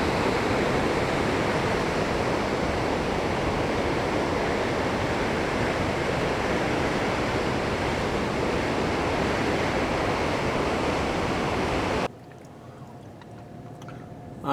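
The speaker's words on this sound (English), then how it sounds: "That rushing water is loud." Loud, dense roar of a flooded river in the North Country rushing close beside a road, a continuous broadband wash that cuts off abruptly near the end.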